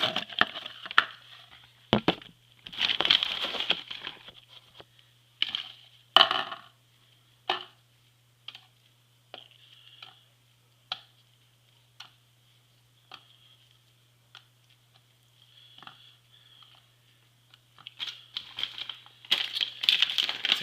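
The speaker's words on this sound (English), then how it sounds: "Take your sandwich meat and rip it up. You can either cut it or just tear with your hands." Sandwich meat is torn apart by hand into a bowl, with soft wet ripping and crinkly bursts coming in clusters, separated by quiet gaps and isolated small clicks, close and fairly clear.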